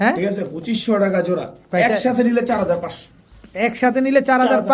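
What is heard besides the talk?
No everyday noises stand out.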